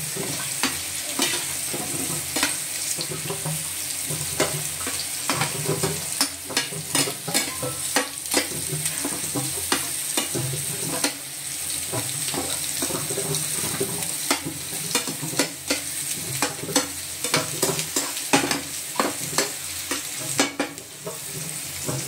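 Small kardi shrimp fry dry in a pan for a fish thali, giving a steady, close sizzle broken by frequent scraping stirs and crackles throughout, with no talking.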